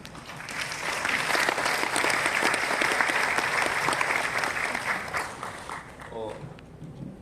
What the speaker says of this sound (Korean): 다시 한번 큰 박수로 감사를 드리겠습니다